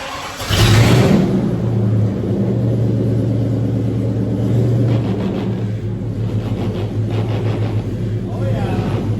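A homemade Batmobile Tumbler engine fires up with a loud burst and settles into a steady, deep rumbling idle, with a few soft revs near the end.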